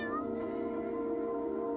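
A cat meows alone in a single drawn-out, wavering, tonal call, fairly close and steady in loudness, with no talk over it.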